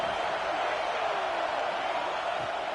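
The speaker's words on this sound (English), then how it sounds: "Here comes the noise from this big crowd in Happy Valley on 3rd down." A big college football stadium crowd at Happy Valley roars on third down in a video game, a constant dense crowd din with faint speech-like traces inside it.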